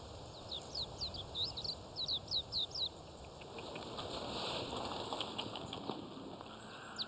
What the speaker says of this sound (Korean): 익숙하게 날아들어 쌀을 먹는 산새들